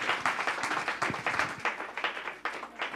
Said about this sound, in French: On applaudit le Seigneur pour Erline.